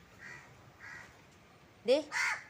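Crows are fed bean curry outdoors. Two sharp, nearby caws ring out clearly near the end, after softer calls and faint talk earlier on.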